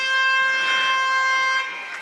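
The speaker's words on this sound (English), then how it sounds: "And on the siren." A loud, sustained siren blares at an Adelaide amateur Australian rules football match, one steady tonal blast lasting about two seconds before fading slightly.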